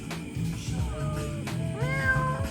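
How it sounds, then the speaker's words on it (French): A cat met during a meal in Bali meows several times up close, with rising and falling mewing calls over a background of low voices and restaurant ambience. "mon petit chat"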